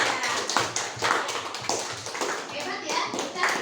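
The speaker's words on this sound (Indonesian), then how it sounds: "berikan tepuk tangan untuk Mica." Classroom applause from young pupils and their teacher in an Indonesian school, a few seconds of fairly close, uneven clapping with children's voices chattering underneath.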